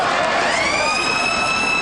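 An end-of-match siren sounds at a rugby stadium during a Top 14 derby between Biarritz Olympique and Aviron Bayonnais. A loud, steady electronic tone sweeps up in pitch and then holds.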